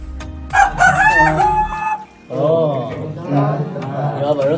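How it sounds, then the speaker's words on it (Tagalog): A rooster crows loudly and close by in Siquijor, in two strained, warbling calls, separated by a brief pause. "You have a rooster."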